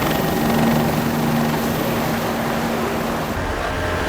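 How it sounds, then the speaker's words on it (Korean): A helicopter flies overhead on a patrol over open ocean near Kiribati, giving a loud, steady rotor drone that holds throughout and shifts slightly near the end. "헬기가 먼저 정찰을 떠나고"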